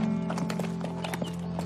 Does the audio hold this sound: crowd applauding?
no